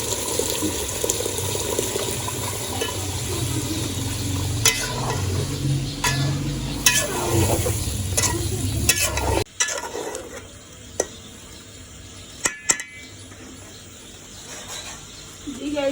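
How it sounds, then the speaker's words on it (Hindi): Tomatoes, onion and yogurt sizzle and get stirred in a pot for white korma, steady frying hiss with scraping stirs through the first half, then quieter, sparser clinks and a low simmer. "अभी मैं इसमें डालने लगी हूँ ये टमाटर और प्याज और दही"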